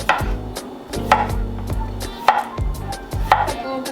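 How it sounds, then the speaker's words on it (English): A knife chops potatoes on a cutting board in a steady run of about five distinct thuds with short pauses between, close and clear with no voices. "Slice and dice."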